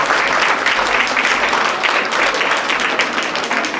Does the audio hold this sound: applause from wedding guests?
yes